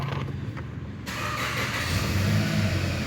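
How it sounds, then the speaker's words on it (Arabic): A Hyundai Sonata's engine cranks and catches, then settles into a steady running rumble, loud and close, with no voices. "السيارة شغالة"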